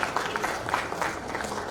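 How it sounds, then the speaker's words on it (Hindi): A brief patter of audience applause from a crowd at a network marketing seminar, moderate and fairly even throughout. "जोरदार तालियां होनी चाहिए आप लोग"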